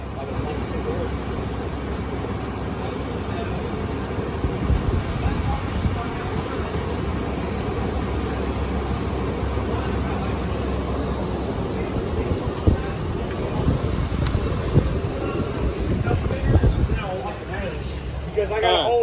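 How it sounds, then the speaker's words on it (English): A truck engine runs steadily with a fresh transmission installed, a low continuous rumble throughout with people talking over it and a few knocks and clatters toward the end. "The truck is running."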